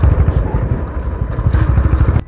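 A motorbike ridden on a mountain road in Himachal Pradesh, with a low rumbling engine drone and wind buffeting, loud and close throughout, and a voice speaking over it.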